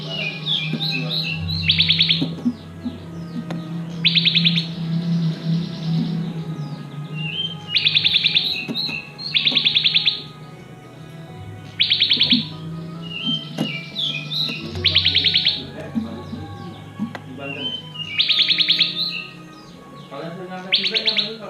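Caged ciblek, bar-winged prinias bred by a keeper in Bali, call in repeated bursts of shrill, buzzy chirping a second or so long, loud and close, over a low steady hum and faint background voices.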